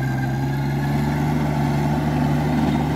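A small Rural King L75 tractor with a front loader idles steadily in a garden, giving a constant low droning hum close by with no talk.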